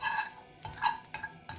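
Oil going into a pan set over heat for onion and egg paratha, with a few metal clinks and scraping stirs of a utensil against the pan in short bursts, close by and fairly quiet.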